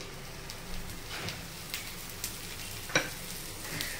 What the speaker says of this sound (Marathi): थोडंसं तूप सोडून घेऊया आपण कढईने